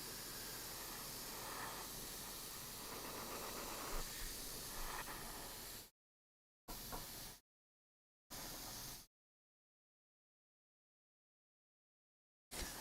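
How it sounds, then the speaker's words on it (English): An airbrush sprays paint onto a model in a steady soft hiss that runs for several seconds, then comes in short separate bursts with silent gaps between them. "I'm gonna turn the model upside down so I can see that happening, and I'm just gonna watch the overspray a lot."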